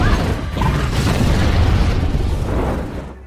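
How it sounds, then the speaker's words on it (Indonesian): A room explodes in flames in a loud, rumbling explosion with a deep roar that sustains and then fades out, filling the space. "tepat pada waktunya ketika ruangan meledak dalam api"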